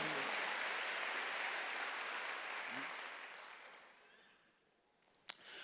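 A church congregation at a Wednesday worship service applauds in a broad wash of clapping that fades away over several seconds, ending with a single sharp knock.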